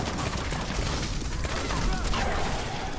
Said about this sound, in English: Make it so that my grenade explosions completely cover you, no matter what you're doing.